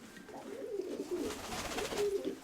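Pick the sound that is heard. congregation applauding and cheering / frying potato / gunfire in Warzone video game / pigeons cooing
pigeons cooing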